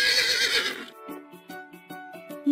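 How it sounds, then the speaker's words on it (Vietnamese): A horse lets out a loud, shrill whinny lasting about a second, followed by quieter rhythmic knocks like hooves. "Ngựa."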